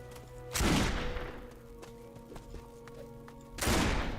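Two loud gunshots from the Risen 2 video game ring out about three seconds apart, each a sharp broadband blast with a decaying tail, over a quiet in-game background hum.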